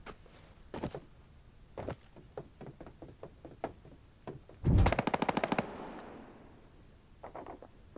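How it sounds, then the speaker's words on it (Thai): Gunfire in the mobile battle game Badlanders Mobile: scattered single shots and knocks, then a loud, close burst of rapid automatic fire near the middle, followed by a few lighter distant shots at the end. "โอ้ยิงกันนัวยิงกันนัวมาก"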